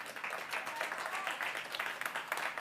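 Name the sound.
audience applause in church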